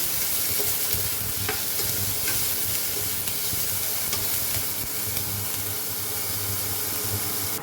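Ingredients for a Goan seabass curry fry in a pan with a dense, continuous sizzle and hiss, loud and close, with faint stirring scrapes and no talking.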